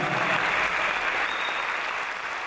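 An audience at a 2016 concert applauds Armenian soldiers with steady, dense clapping that holds at an even level throughout.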